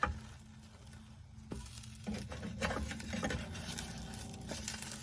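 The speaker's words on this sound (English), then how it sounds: "I'm gonna whisk this a little more" Thick two-ingredient carnivore tortilla batter is whisked in a bowl, giving faint irregular tapping and scraping strokes that grow busier after the first second. The sound is close and quiet, with no talk.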